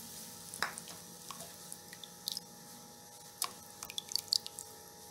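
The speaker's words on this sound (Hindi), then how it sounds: "पानी को बॉयल आ रहा है" A pot of water coming to the boil with oil and salt added, giving faint bubbling with scattered small pops and drips over a steady low background hiss.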